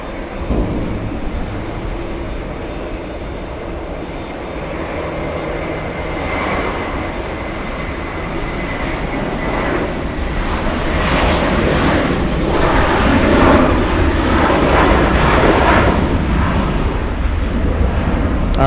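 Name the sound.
JetBlue airliner taking off from LAX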